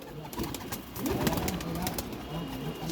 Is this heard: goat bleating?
no